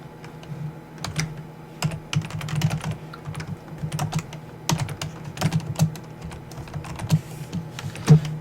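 Rapid typing on a computer keyboard, irregular bursts of close clicking keystrokes with brief pauses between runs, no voices.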